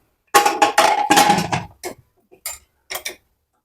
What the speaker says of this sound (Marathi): तर लगेच आपण झाकण लावूया